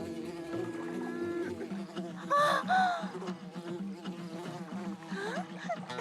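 In a puppet show, a voice imitates a bee's buzzing with a brief rising buzz over background music, followed by a soft giggle.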